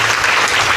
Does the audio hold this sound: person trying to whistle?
no